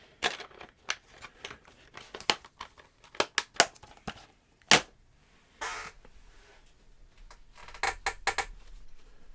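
Plastic DVD cases with snap covers click and clatter as they are handled and stacked, giving irregular sharp snaps and rattles up close, some in quick bursts, with quieter gaps between.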